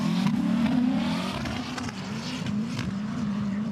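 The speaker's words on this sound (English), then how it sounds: "flicks the car one side, back to the other." Drift car engine at an FIA Motorsport Games Drifting Cup qualifying run, revving hard and steadily at the limit throughout, with a sustained loud engine note that surges and dips slightly as the car flicks from side to side.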